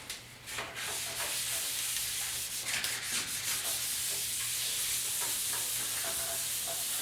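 Steady soft rubbing and sanding hiss as painted metal on the roof of a 1956 Ford pickup is worked in light circular polishing strokes, continuous and close with no talking.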